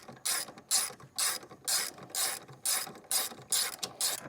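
A ratchet wrench clicks in quick bursts, about eight strokes in a steady rhythm, close and loud and alone, as a bolt is tightened on a saddlebag crash cage for a Honda GoldWing GL1800 motorcycle.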